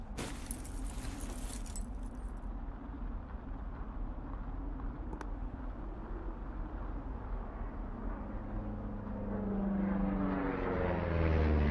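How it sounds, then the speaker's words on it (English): An airplane passes overhead in the video game Firewatch. A steady engine drone builds and swells louder toward the end, with a brief rattle near the start. "You see that plane?"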